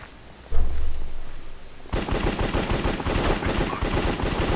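Rapid automatic M4 rifle fire in Minecraft, loud and sustained, following a brief thump; a dense continuous burst of shots.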